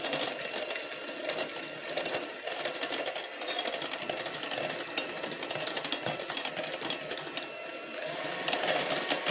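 Electric hand mixer whirring steadily while blending a sour cream dip with garlic and onion dip mix, a continuous buzzing motor close by that runs without pause for the whole stretch, with no talking.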